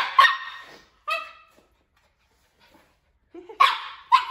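Shiba Inu dogs give sharp, loud barks close by: a few separate yelps in two spaced clusters with a quiet gap between them.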